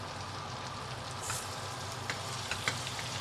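Steak dropped seasoning side down into a hot pan, a steady close sizzle and spatter with a few sharper pops toward the end.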